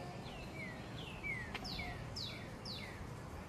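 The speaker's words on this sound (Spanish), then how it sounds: "Escuchan el canto de las aves." Birdsong in a botanical garden in Virginia, with repeated clear descending whistled notes, several calls in a row over the soft background hum of leafy grounds near a small stream.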